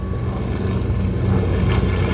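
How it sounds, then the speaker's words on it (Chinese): A military aircraft accelerates during an air force flight display over Songshan air base, a loud continuous low engine roar that holds steady and swells slightly. "飞机持续加速"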